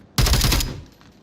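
A grenade going off during an Onward VR championship match: one sharp, loud burst that holds for about half a second, then a brief rumbling tail fading out.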